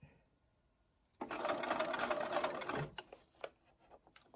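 A sewing machine stitches a paper-pieced quilt block in one brisk, close burst of about two seconds, ending in a few soft clicks and handling sounds.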